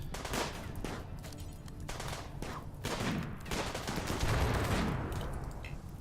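Gunfire in Rimworld, a colony-survival game, with repeated bursts of shots and rapid fusillades at close range, loud and continuous over the whole stretch.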